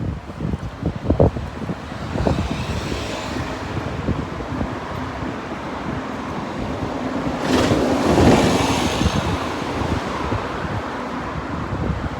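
Gusty wind buffets the microphone with a low rumble on Ann Street in Brisbane, swelling louder in the middle and then settling back to a steady rush.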